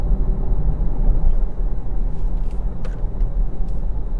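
Jaguar I-Pace 400 EV electric car accelerating on the road, a loud close low rumble of tyres and road noise with a faint steady electric whine, heard from inside the cabin without talk.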